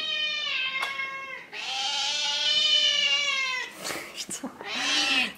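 A domestic cat meows for food indoors, giving two long, loud, drawn-out cries close by, a short gap of small rustles and clicks, then another meow at the end.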